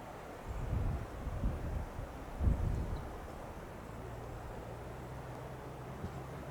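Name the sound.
wind blowing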